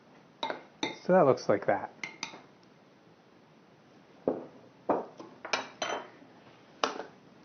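A utensil scrapes and clinks against a mixing bowl as sugar and pie ingredients are stirred, in irregular bursts of clatter with pauses between them, and a voice speaks briefly over the clinking.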